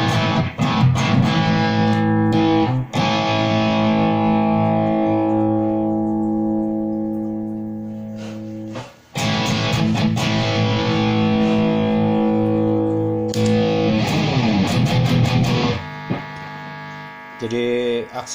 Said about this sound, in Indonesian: ini distorsi.